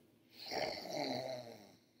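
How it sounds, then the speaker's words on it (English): Cartoon judges snoring in a children's story about penguin cheerleaders, a single long, soft, rasping snore that swells and fades, heard alone. "The judges were snoring."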